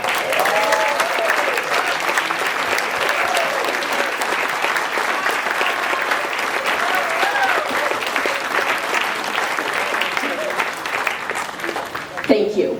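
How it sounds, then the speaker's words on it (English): A crowd at a community evening event applauds steadily for the staff, warm continuous clapping with a few voices and cheers mixed in, fading slightly at the end. "We shouldn't hold off on that applause, should we?"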